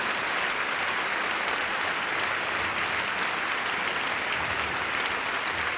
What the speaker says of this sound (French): On vous applaudit quand même.